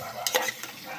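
Whole spices such as cinnamon and cloves frying in about four spoons of oil for chicken biryani, a steady bright sizzle broken by a few quick scraping stirs of a spoon.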